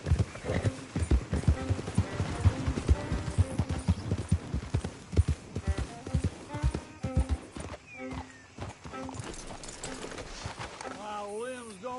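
Rapid, close hoofbeats of a horse galloping in Red Dead Redemption, rhythmic and punchy, with brief neighing and wavering horse calls near the end over a busy background.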